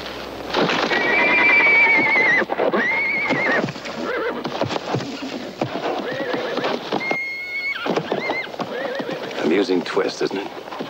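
A horse whinnies loudly several times amid hoof clip-clops in an old Western movie scene, with a voice and other film sounds mixed in.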